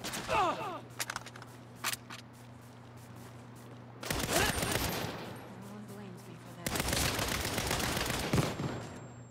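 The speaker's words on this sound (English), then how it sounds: "Another flashbang." Loud bursts in Saints Row, likely flashbang blasts amid gunfire, arriving in sharp clusters at the start, middle and end, with a low steady hum underneath between the blasts.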